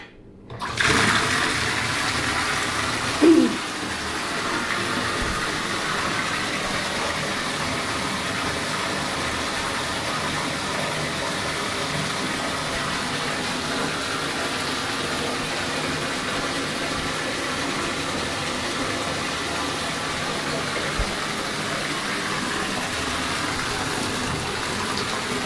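Bath water gushing steadily from a tap into a filling tub, with a quarter of a Lush bath product crumbled in; a brief splash early on, then constant rushing water, no talk.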